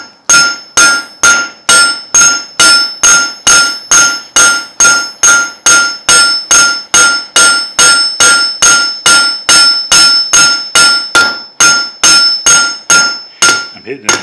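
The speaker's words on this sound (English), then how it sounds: "So I'd use my peen crossways this way." A hammer peen strikes hot metal crossways while drawing it out, a loud, close, rapid run of about thirty sharp ringing blows at a steady quick rhythm, with bright metallic overtones on each hit.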